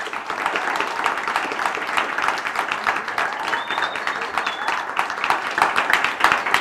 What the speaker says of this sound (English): Everyone, if you would please give Sylvia a round of applause for her courage to tell her story.